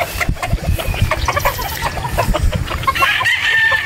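Gamefowl chickens at a Batangas game farm cluck in quick, busy bursts while a rooster crows near the end, several birds close by and loud with no voices.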